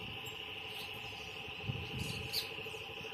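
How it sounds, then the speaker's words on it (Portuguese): A steady chorus of frogs trills continuously in the distance after rain in the sertão of Pernambuco, Brazil, a faint high-pitched drone with soft scattered rustles. "A felicidade dos sapos, porque choveu, gente."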